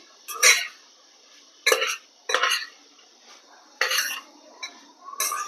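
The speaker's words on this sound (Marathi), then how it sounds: "बघा, या पद्धतीने आपल्याला मिक्स करायचं आहे" A spoon scrapes and stirs through cluster beans (gavar) in a bowl in several separate bursts, with quiet pauses between them.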